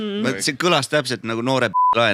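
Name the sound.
censor beep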